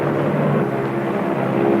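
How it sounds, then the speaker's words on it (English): A bomb-carrying military airplane drones overhead with a steady, loud, low propeller-engine hum that holds even and continuous throughout, heard alone without speech. "The bomb-carrying plane makes its initial run."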